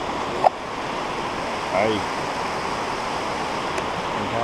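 Steady broadband rush of a small river flowing on a trail, continuous and fairly close, with a brief greeting spoken over it and a short bird-like chirp partway through.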